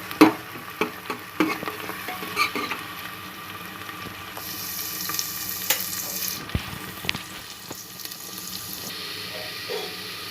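Chopped onions with garlic and ginger frying in oil in a pan, a continuous soft sizzle with intermittent stirring clinks and scrapes close by, including a brighter hissing burst midway, without talk.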